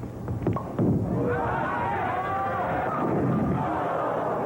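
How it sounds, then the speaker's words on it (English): Bowling crowd at the 1985 PBA National Championship in Toledo, a burst of cheering and clapping after a strike swelling into sustained applause and hubbub, with a commentator's voice woven through. "A 10, and he gets a deserved round of applause"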